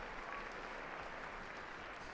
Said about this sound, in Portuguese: é recebido pelo aplauso dos fiéis e peregrinos que se encontram na grande sala Paulo VI